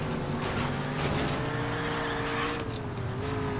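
Car engine in the driving video game GTA 4, a steady loud drone with droning harmonic tones and slight pitch shifts as the car drives, continuous and alone with no talk.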